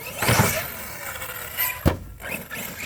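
RC basher car launching off a modest ramp and backflipping, the motor whining loud before the jump, then a sharp thud on landing followed by rolling and scuffing noise.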